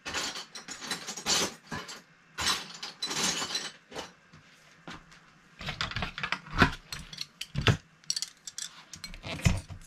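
Clamping nut being tightened with an 8 mm wrench while reassembling an OS Speed R21 GT Rody model engine with an Optima CS400 clutch: close, irregular metallic clicks and ratcheting scrapes in bursts, with pauses between, no talking.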